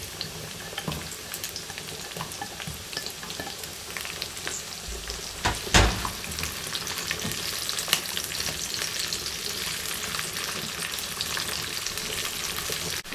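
Garlic and onion frying in a hot pan, a steady close crackling sizzle with stirring clatter and one sharp clack of a utensil partway through, continuing without pause.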